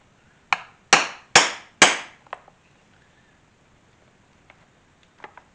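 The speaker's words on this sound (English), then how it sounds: "So I can go ahead and punch my holes on the flap." Holes are punched in a leather kukri sheath flap, four sharp, loud hammer strikes in quick succession on the punch, followed by a few lighter taps, close and otherwise quiet.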